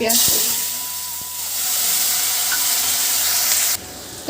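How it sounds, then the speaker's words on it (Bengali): Cumin seeds and chopped onion fry in hot oil with a loud, close, steady sizzle and hiss that carries on until it cuts off near the end. "ফোড়নে জিরে দিয়ে দেবো আর পেঁয়াজ কুচি দেবো"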